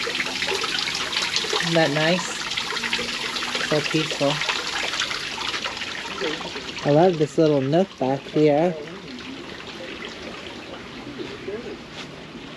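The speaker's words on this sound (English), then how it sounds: "a water feature right here" A garden water feature in a desert botanical garden trickles steadily and softly throughout, sitting under relaxed nearby conversation with brief bird chirps.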